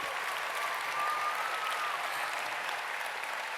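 A large audience claps continuously at the MINECON 2015 closing ceremony, a dense, even wash of applause filling the hall from start to finish without pause.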